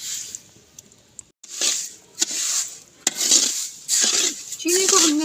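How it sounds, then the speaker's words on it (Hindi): Sugar poured into a wok of ghee while making maida halwa, heard as bursts of grainy rustling and pan scraping with clinks of a utensil against the metal, fairly close and with no talking. "यहाँ पे 1 किलो हम चीनी डाल देंगे।"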